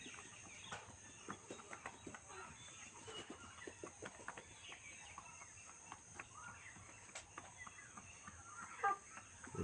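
Chickens cluck quietly nearby in a farm setting, giving soft, irregular, short calls scattered over a faint background.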